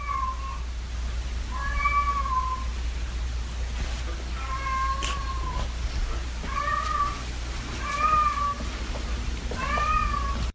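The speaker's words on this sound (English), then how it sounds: "Does anyone else's cat do that?" A cat meowing repeatedly, a recording played back with boosted gain, so the drawn-out, wavering meows sit over a heavy steady hum and background hiss, about five calls in ten seconds.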